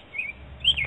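Birds chirping outdoors, two short high tweets spaced apart over faint background noise, fairly distant and light.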